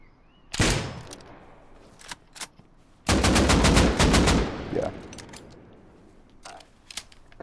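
Gunfire in the video game Rust: a sharp single shot, a second burst, then a loud sustained rapid volley lasting about two seconds, followed by a few scattered isolated shots, all close and without talk.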